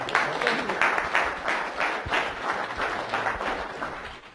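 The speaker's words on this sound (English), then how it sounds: "Big round of applause for the lady" Round of applause from a live audience at a hypnosis healing demonstration, steady rippling clapping sustained at moderate level throughout.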